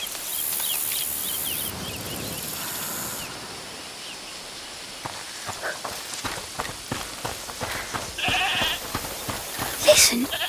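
In the video game A Plague Tale: Requiem, a goat bleats several times, fairly near and clear. Soft game ambience lies underneath, and repeated short footstep-like sounds build up toward the end.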